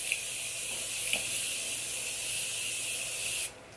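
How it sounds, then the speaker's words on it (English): A Morphe Continuous Mist setting spray releases one long, steady hiss of fine mist, close and fairly loud, lasting several seconds before cutting off abruptly, with no talking. "This is the Morphe Continuous Mist Setting Spray."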